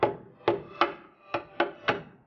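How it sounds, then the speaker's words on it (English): Six sharp hammer taps knock jack nuts into slots for cowl hardware, each crisp strike ringing briefly and spaced irregularly, close and clear with no talking. "we're just going to make it fit using a hammer"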